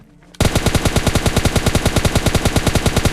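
Pistol fire in the video game PUBG Lite starts abruptly after a moment of quiet, then about twenty loud, sharp shots follow in a fast, evenly spaced rhythm, close and alone.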